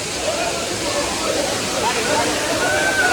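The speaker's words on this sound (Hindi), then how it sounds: "पानी वहाँ से गिर के आता है इस तरह से" Lihonjar Waterfall in Karbi Anglong roars in a loud, continuous rush of falling water at a busy summer bathing spot, steady and close throughout.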